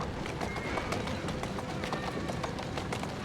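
Steady clip-clop of trotting horse hooves with rolling wheels from a horse-drawn carriage in Assassin's Creed, continuous and close, over a busy background.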